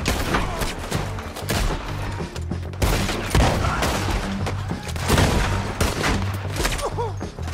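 Artillery and rapid gunfire fill a battle in the video game Red Dead Redemption 2. Dense, continuous volleys of shots mix with booming thuds, and shouting voices can be heard under the fighting.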